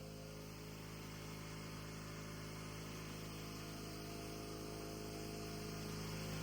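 A crusher mill machine grinding amla, haritaki and other herbal leaves into powder hums with a steady, dense mechanical drone and a constant broadband roar, unbroken and loud throughout.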